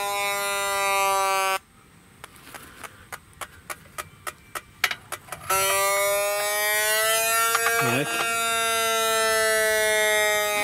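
A Yeezou combustible gas detector shrieks a loud, continuous electronic alarm while probing for a propane leak inside a valve housing, broken for a few seconds by a quick run of sharp ticks before the steady wail resumes and briefly dips in pitch.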